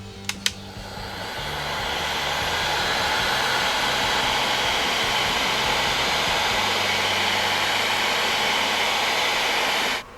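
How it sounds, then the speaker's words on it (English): A heat gun with a curved nozzle shrinks heat shrink tubing over wiring for Jeep J10 tail lights: a click, then a loud steady blowing roar that runs on unbroken before cutting off. "Then we'll take our heat gun, which this thing is the best invention since sliced bread"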